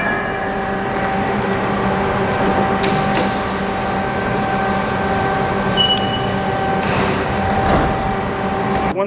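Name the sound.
machine working two wheels at a time in a wheel factory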